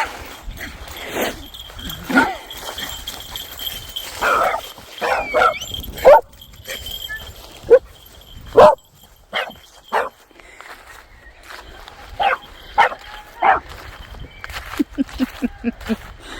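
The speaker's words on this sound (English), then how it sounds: "You see the doggies? They're gonna get me." Several dogs bark and yip in scattered bursts, some close and loud, others farther off, with quiet gaps between them and faint footsteps during an outdoor walk past leaf-strewn ground.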